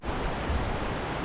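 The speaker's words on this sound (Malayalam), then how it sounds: "സോനാമർഗിലും നമുക്കൊരു അടിപൊളി പുഴ ഒഴുകുന്നുണ്ട് കേട്ടോ." A river at Sonamarg, Kashmir, rushing steadily, a dense continuous roar of flowing water heard alone, with no talk.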